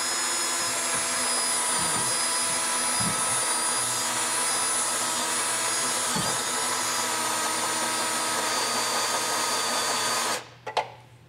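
A power drill whines steadily drilling through metal for a trailer hitch install on a 2023 Chevrolet Equinox for about ten seconds, then cuts off abruptly, leaving a brief clatter.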